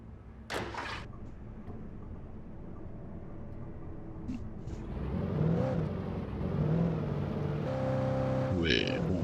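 Cadillac car in the video game Alan Wake Remastered, a door thunk, then the engine starting and revving up with rising tonal whine, while someone talks over it.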